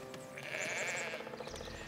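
Sheep bleat repeatedly at a sheep farm in the Foundation video game, the calls sitting over a steady game soundscape of ambient tones.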